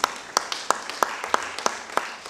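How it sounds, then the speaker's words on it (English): Audience clapping at a formal event on the African Financing Stability Mechanism: sharp, evenly spaced claps about three per second, moderately loud against a light room background. "Please give him a very warm round of applause here."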